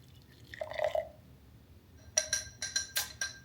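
Espresso pours into a cup in a short stream, followed by a few light clinks and drips, quiet and close.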